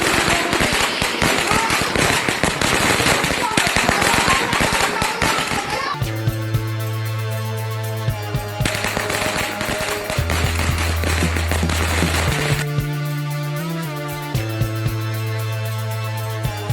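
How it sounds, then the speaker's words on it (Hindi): Rapid crackling bursts of firecrackers set off indoors during a chaotic family scene fill the first six seconds densely and loudly, then give way to music with sustained tones. "जो आते ही फोड़ देती है पटाखे"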